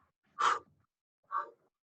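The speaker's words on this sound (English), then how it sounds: "Nice deep breathing the whole time." Two deep breaths during a Pilates lower-body workout at home, a strong airy exhale followed by a softer one after a pause, close and quiet with nothing else around.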